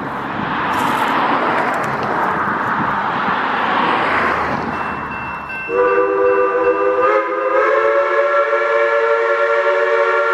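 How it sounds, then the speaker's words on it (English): Mount Rainier Scenic Railroad train drawing near, a rumbling run of wheels and cars giving way midway to a loud, sustained multi-tone whistle that holds steadily through the end. "The train makes the final return trip of the day as it approaches Highway 706"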